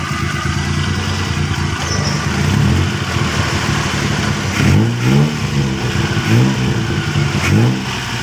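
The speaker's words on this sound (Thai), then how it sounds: "ให้ฟังเสียงเครื่องครับ" A tuk-tuk's small 660cc engine idles steadily, then revs up in several quick throttle blips that rise and fall, loud and close.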